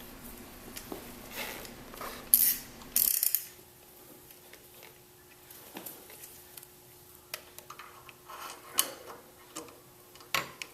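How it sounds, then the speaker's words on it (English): A wrench and Allen key tighten a bolt on a Predator motor mount, heard as close, faint ratcheting clicks and metallic ticks in irregular bursts, with a few louder knocks and handling noises between them. "use a 8mm open end wrench to tighten the bolt down with the Allen key"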